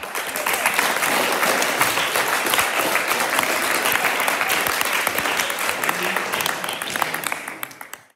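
Pupils and families at a primary school P7 prize giving clap for themselves in a big round of applause: loud, dense clapping that holds steady for several seconds, then tapers away at the close, with some voices mixed in.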